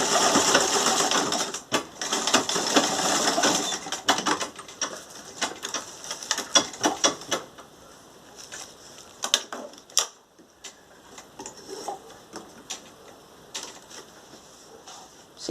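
A sewing machine stitches fabric for a door draft protector in quick bursts of rapid mechanical ticking, stopping and starting several times. The bursts are moderately close and thin out toward the end, with brief pauses between runs.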